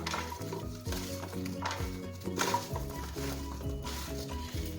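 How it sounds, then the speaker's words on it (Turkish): Vegetables being tossed with olive oil in a bowl, with continuous soft wet clattering and scraping, steady and close, no talking. "Şimdi bunları bir harmanlayacağım."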